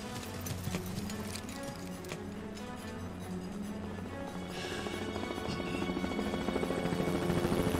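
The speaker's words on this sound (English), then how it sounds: "Look, we have a helicopter of our own." A helicopter in the Yakuza Kiwami video game gives a rapid, rhythmic rotor chop mixed with game sound effects. It builds steadily and grows louder toward the end, with no talking.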